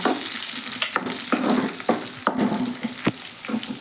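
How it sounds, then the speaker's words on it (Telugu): Onion pieces sizzling in hot oil as moringa leaf fry is cooked, with steady frying crackle broken by several sharp stirring scrapes, close and fairly quiet with no talking. "ఉల్లిగడ్డ ముక్కలు అయితే బాగా ఫ్రై అయినాయండి ఆయిల్లో"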